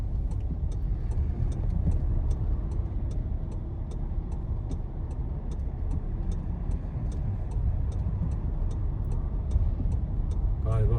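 Car turn signal ticking at a steady, even rhythm, clear above the low rumble of a vehicle driving on a Swiss motorway.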